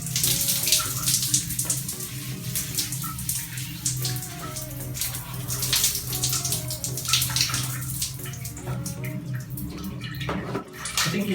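Water pours steadily from a shower in a home bathroom, a continuous splashing hiss with uneven spatters, heard close up while faint background music plays.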